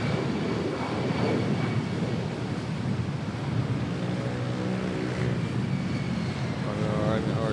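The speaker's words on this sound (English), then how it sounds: "Quick takeoff." A plane makes a quick takeoff at Manila airport. A continuous broad jet roar holds steady at a moderate distance, mixed with wind buffeting on the microphone.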